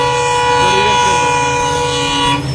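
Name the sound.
train passing at a railway gate crossing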